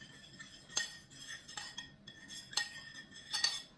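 Metal utensils clink and scrape against a bowl while salt and pepper are mixed into a caprese salad, a few soft rhythmic taps and stirring strokes, close and fairly quiet with no talking.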